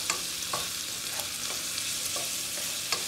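Food browning in a hot pan before collard greens go in, giving a steady bright sizzle with occasional sharp spatters and light stirring clicks, close and even throughout.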